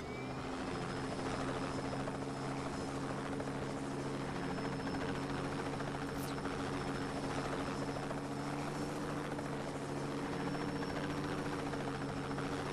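Steady video game helicopter rotor drone with a constant low hum and a high whine, holding even and unbroken throughout without any voices.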